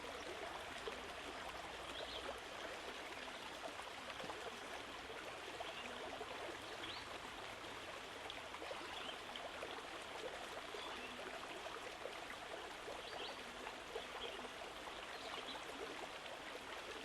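A small river stream flows steadily, a soft continuous trickle and burble at moderate distance, unbroken and alone, with no voices.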